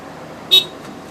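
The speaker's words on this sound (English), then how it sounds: "honk your horn" A single short, bright horn toot rings out briefly over a quiet, steady background hum.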